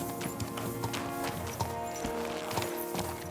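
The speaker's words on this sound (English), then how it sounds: "Easy, good horse." Horse hooves clip-clopping in the medieval video game Kingdom Come: Deliverance II, a steady rhythmic trot of close, distinct hoofbeats over game ambience and music.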